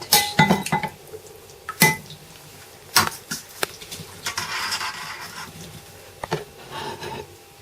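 Lamb curry being dished up from a pot, with a metal spoon clanking and scraping against the pot and plates in irregular knocks and clinks, along with soft wet stirring sounds.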